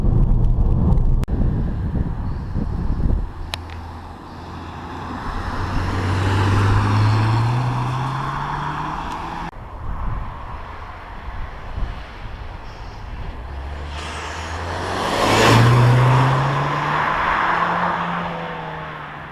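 Ford Fiesta ST 180 hatchback engine driving, revving up through the gears in two rising pulls with gear changes between, heard from inside with wind and road noise and no talk.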